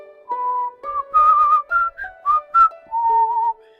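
A person whistles a short melody directly into a microphone, with clear, close, pure tones in a string of sustained and stepped notes, all alone without talk.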